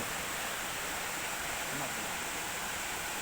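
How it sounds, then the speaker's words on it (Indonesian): The Batang Hiria waterfall in Nagari Supayang roars as a dense, steady rush of falling water that fills the whole scene, with a faint voice barely audible beneath it. "Inilah detik-detik penemuan air terjun Batang Hiria yang paling fantastis"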